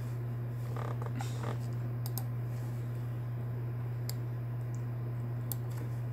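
Computer keyboard keys tapped quietly as numbers are entered, a few scattered clicks over a loud steady hum, faint and close with no talking.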